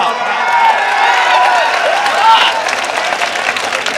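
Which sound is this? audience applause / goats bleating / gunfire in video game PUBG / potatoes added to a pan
audience applause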